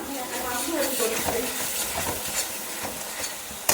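Potato curry cooks in a pot while a spoon stirs it, making a busy, continuous sizzle with repeated scraping and clinking strokes close by.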